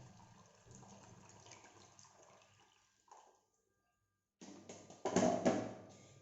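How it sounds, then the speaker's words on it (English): Water poured into a bowl of peeled beans, with a quiet splashing fill that pauses briefly, then returns louder and more gurgly near the end. "So I'll add water to this now."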